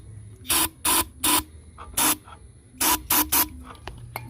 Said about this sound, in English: I'm going to go ahead and put a few shots of carburetor cleaner in there.